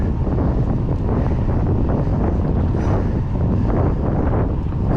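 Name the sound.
wind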